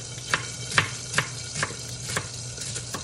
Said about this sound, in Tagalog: Gisahin natin ang sibuyas